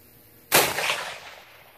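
A single suppressed AR-50 rifle shot fires outdoors on a range, a sharp close blast that trails off in a fading rumble over about a second.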